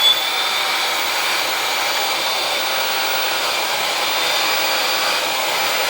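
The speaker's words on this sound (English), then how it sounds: "With the blow dryer, I scrunch it up." A blow dryer fitted with a diffuser runs continuously on wavy hair, a loud, even, close-up whooshing hum with no breaks and no talking.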